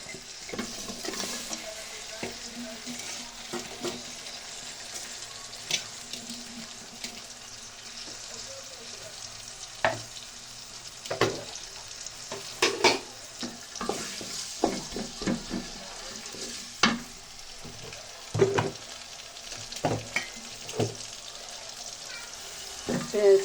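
Onion and green chilies sizzle in hot oil in a pan before a free-range chicken goes in, with repeated scraping and clattering stir strokes over a low crackle, close by.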